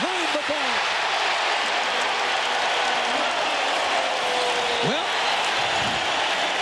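A packed basketball arena crowd at a 2000 NBA playoff game between the Bucks and the Pacers cheers in a loud, sustained roar, while a commentator talks over it and whistles or squeaking sneakers cut through briefly.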